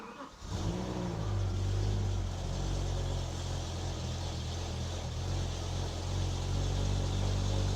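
A BMW E60 M5 cranks and fires up, then settles into a steady, deep idle with a low hum, close by and without talking.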